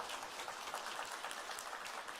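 A church congregation applauds during a retirement service for a senior pastor, a dense, even patter of many hands clapping that sounds faint and distant, sustained for about two seconds.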